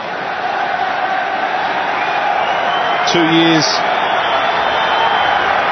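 A stadium crowd at Allianz Stadium applauds and cheers during a Sydney vs Adelaide United football match as a player returns from a long injury layoff, a steady, dense roar under continuous commentary.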